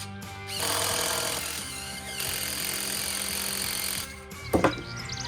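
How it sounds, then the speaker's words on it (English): A half-inch spade drill bit bores into a 4x4 piece of lumber for a wood retaining wall, giving a loud whirring, chattering drill noise that runs steadily and ends in a couple of sharp bursts, with no talking. "I've got a 1/2-inch spade drill bit"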